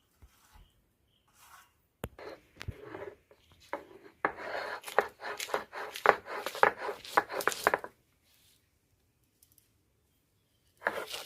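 Fried garlic, onion and shrimp are ground on a stone grinding slab, giving a quick series of close, rhythmic scraping and grinding strokes that stop abruptly, with quiet gaps before and after.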